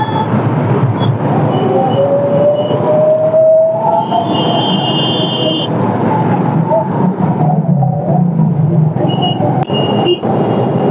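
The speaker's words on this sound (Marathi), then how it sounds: "एवढी ट्रॅफिक आहे" Heavy morning road traffic crawling through rain and flooded streets: a dense, continuous rumble of engines with passing vehicles, a brief higher whine and a couple of horn-like tones, close and loud.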